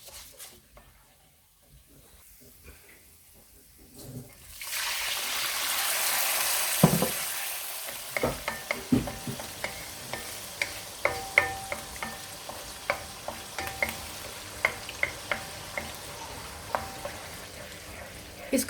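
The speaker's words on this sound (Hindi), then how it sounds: "अब मैं इसमें थोड़ा सा पानी डालूंगी।" Moong dal roasting in a pan gives a loud hiss and sizzle when water is poured in, then settles into repeated scraping and clinking as it is stirred, with no one talking.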